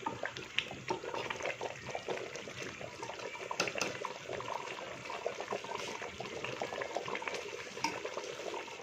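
Ingredients frying in cooking oil while pumpkin (petha) curry is prepared, a steady close sizzle and crackle with scattered pops throughout.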